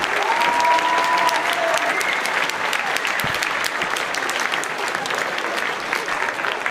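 A school spring band concert audience applauds the band teachers with sustained, dense clapping that fills the hall, loud and even throughout, while a faint tone lingers briefly at the start.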